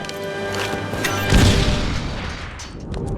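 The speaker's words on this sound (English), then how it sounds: "The charge is set and ready to detonate." A heavy explosive charge detonates in Star Wars Republic Commando, a loud boom landing mid-clip over a dense layer of battle noise and music that rumbles on afterward.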